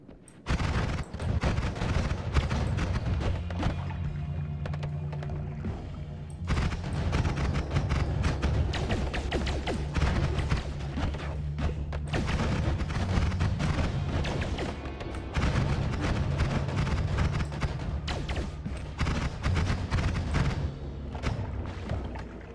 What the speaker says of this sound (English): Had some major explosions.